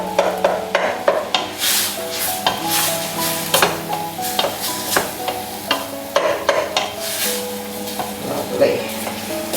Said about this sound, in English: just tap down through it to break up the mince, because you don't want great big lumps of it in there